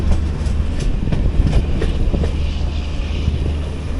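The Vistadome coach of the 16575 Gomateshwara train runs from Yesvantpur toward Mangaluru as it nears Chikkabanavara station, giving a steady, close rolling rumble with faint wheel clicks throughout.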